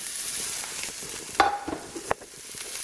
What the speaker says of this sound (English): I like to dump in the goodies here first and get them a little semi-sauteed